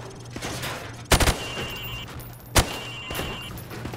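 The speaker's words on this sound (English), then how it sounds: "shoot at the targets while firing from the hip" Two sharp gunshots from a G36C rifle fired from the hip in Call of Duty, spaced about a second and a half apart, loud and close over a steady low background hum.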